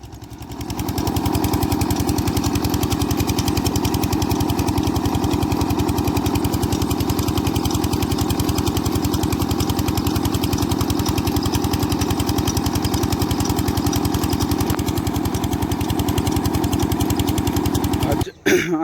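A farm irrigation engine running a water pump in a Punjab field, with a loud, steady chugging drone close by that continues unbroken until a brief clatter at the very end.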